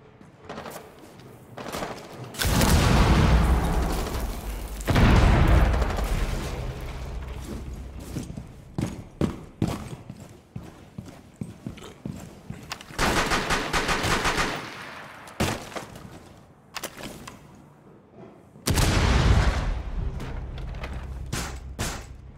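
Gunfire in Rainbow Six Siege: several loud, sustained bursts of automatic fire separated by quieter stretches of scattered single shots and clatter, close and dominant with little talk.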